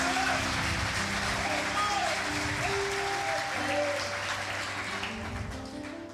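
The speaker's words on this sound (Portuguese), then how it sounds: "pode dar um forte aplauso ao Senhor" Church congregation applauds loudly during a worship service, a dense sustained clapping with voices and music underneath, easing off toward the end.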